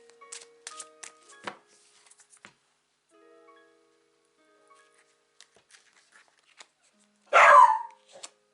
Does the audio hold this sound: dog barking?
yes